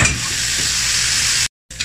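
Loud, steady sizzle of chicken liver frying in a pan for adobo, close and continuous, cutting to silence briefly near the end before the sizzle resumes.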